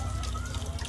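Water from a tap pours steadily into a drum, a continuous close rushing and gurgling stream with a low hollow resonance, with no talk.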